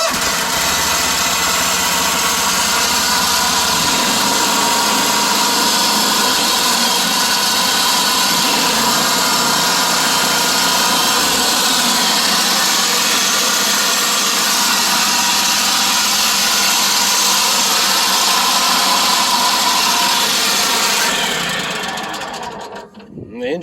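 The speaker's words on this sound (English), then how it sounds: "I'm going to crank it up and let you hear what's going on" A John Deere commercial mower engine with a fault runs steadily and loudly close by for about twenty seconds, a rough broadband mechanical roar, then abruptly cuts out near the end; a voice talks briefly over it.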